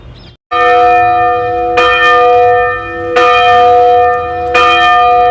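The bell of St. Paul's Church in Pune tolls loudly four times at an even, slow pace, each strike ringing with long, bright overtones that overlap the next, with no talking.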